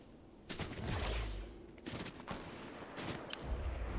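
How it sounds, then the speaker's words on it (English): Repeated bursts of gunfire in the video game Fortnite, sprayed in several loud volleys with short pauses between them and no talk over the shooting. "Shooting, keep shooting."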